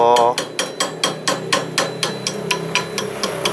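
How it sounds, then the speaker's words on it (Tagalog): Steady hammer blows strike a metal lock part on an electric trike during repair, about three times a second, a dozen or so sharp ringing clanks up close with nobody speaking. "And papakan natin ng martilyo"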